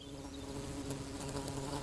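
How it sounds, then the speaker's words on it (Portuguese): Long-tongued flies, the sole pollinators of the Lapeirousia silenoides flower, buzz steadily in a continuous close drone, with no voices. "Estas moscas são as únicas polinizadoras da flor da espécie Laperousia silenoides."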